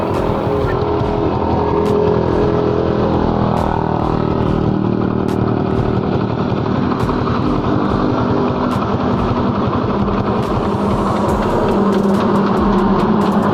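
A battery-operated electric motorcycle runs with its battery removed, giving a steady, loud mechanical whir and rattle with a continuous hum throughout and no talk.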